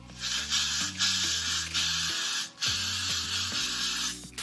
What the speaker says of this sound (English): now I'll be going in with my Got2b spray just so we lock in that foundation